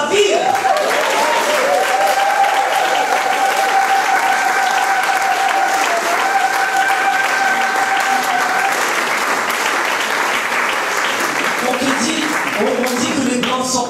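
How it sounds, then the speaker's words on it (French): A church congregation applauds Jesus during a prophetic evangelism sermon, with loud, sustained clapping from a crowd that holds for about twelve seconds before tapering off. "Acclame Jésus pour sa vie."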